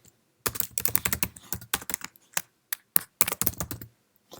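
Keys clatter on a computer keyboard as a short sign-off is typed in Outlook on a Mac. Close, crisp clicks arrive in quick uneven bursts with brief pauses, and no voice is heard.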